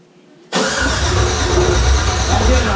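A Chevrolet Silverado engine fitted with a new cam and heads cranks and fires, then settles into a loud, steady, lumpy idle after a brief quiet moment.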